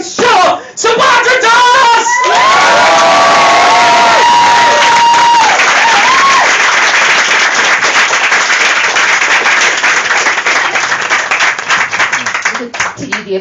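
A loud crowd claps and cheers at a live stage show, with whoops and whistles at the start, then sustained applause that slowly thins.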